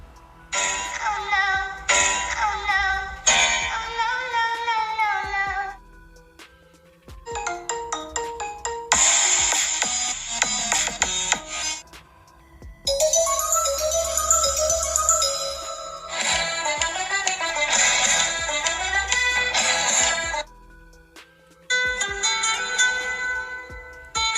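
A series of different electronic phone ringtones play one after another, melodic and bright, each several seconds long with brief pauses between.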